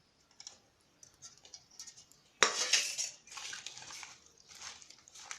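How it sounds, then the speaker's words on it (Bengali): Boiled eggs being mashed and mixed with mustard oil in a bowl: soft scraping and clinking of a utensil, one louder clatter midway, then steady close stirring noise, no voices. "ডিমটা ভালো করে মাখা হয়ে গেছে"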